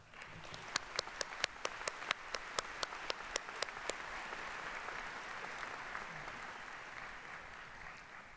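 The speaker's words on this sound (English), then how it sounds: "give a round of applause to all of the mothers and grandmothers in the audience" Graduates at a 2015 spring university commencement applaud the mothers and grandmothers in the audience: a broad, steady wash of clapping from a large crowd, with a few sharper nearby claps standing out early on, no voices over it.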